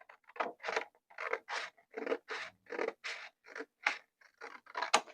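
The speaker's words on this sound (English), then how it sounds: "I'm going to cut this to see the page under me." Dollar Tree scissors snip through paper for a handmade writing journal in a quick, steady series of about fifteen close, crisp cuts, with no talking.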